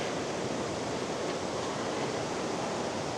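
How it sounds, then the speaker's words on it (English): Water gushes out of the ground at Big Spring near Van Buren, Missouri, a steady, dense rushing roar with no pause or change in level. "And this water is just gushing out of the ground right here."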